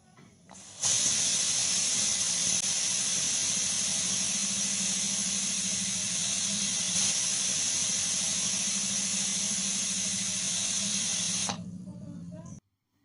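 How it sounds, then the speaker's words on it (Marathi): A pressure cooker with lemon slices inside lets out a long, loud, steady whistle that starts abruptly and holds at full strength for about ten seconds before cutting off. "3 शिट्ट्यांमध्ये आपल्याला हे लिंबाचे काप व्यवस्थित असे शिजवून घ्यायचे"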